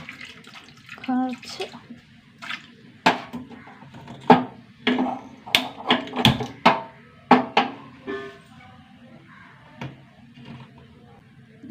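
Water splashes in short bursts into a pan holding large blocks of jaggery set to melt, close and fairly loud, while a person talks over it.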